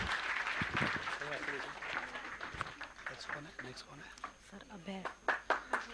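Scattered applause rises from a group at a student trophy ceremony while someone talks over it, the claps growing sharper and louder toward the end.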